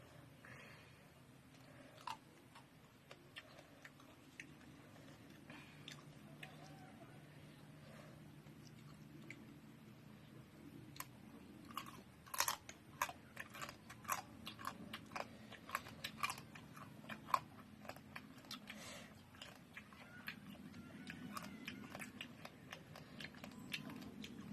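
Close, faint mouth sounds of someone eating papaya salad with raw crab, with irregular wet chewing, soft crunches and bites building in density and continuing steadily for a long stretch, with no talking.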